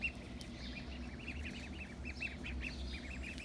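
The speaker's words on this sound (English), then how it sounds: "So you can see the ducklings like to dig around." Ducklings in a garden give rapid high peeping calls in quick repeated bursts, soft and fairly close over a low steady background rumble.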